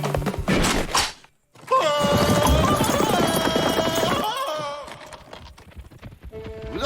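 Cartoon horses' hooves clip-clopping in a rhythmic trot, loud and close, with a brief pause before the beat resumes alongside musical tones and a fading tail.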